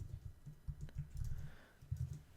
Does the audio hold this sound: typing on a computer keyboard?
yes